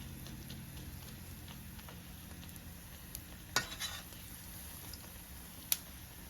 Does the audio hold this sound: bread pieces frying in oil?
yes